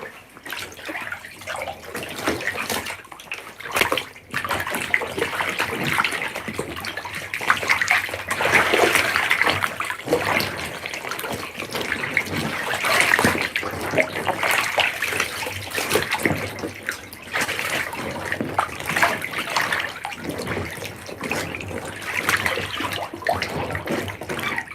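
Water splashes and sloshes in a bathtub during cleaning, a steady run of close, uneven swishing and splattering with brief pauses and no talking.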